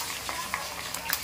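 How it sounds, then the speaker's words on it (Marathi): An egg fries in oil on a hot tawa with a soft, steady sizzle and a few small spits and pops, heard briefly and up close. "इकडे तवा घेतलेला आहे, तेल टाकलेलं आहे, मस्त एग फ्राय आणि पाव"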